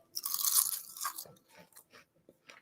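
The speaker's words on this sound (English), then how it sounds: "Wait for the crunch." Crisp, loud crunching of raw kale chips, a dense burst of bites up front followed by quieter, scattered chewing crunches, close up with no talking.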